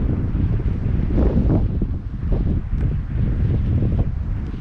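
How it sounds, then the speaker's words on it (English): Strong wind batters the microphone at a Grand Canyon campsite near a teardrop camper. Gusts rise and fall as heavy, low roaring buffets that continue loud and close throughout, with no voices. "The wind is not cooperating."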